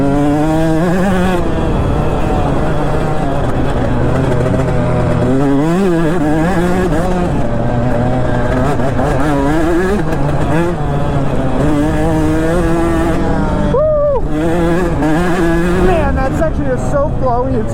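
Two-stroke and four-stroke dirt bike engines rev hard and continuously up close, pitch rising and falling as the riders work the throttle on a flowing trail, with a voice breaking in briefly over the roar.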